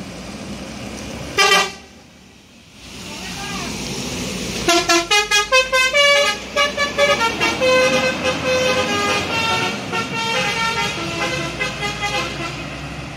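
An MPM Executive Plus bus arrives on a road, giving one short honk and then a long melodic horn sequence of repeated rising and falling tones, loud and close over engine rumble.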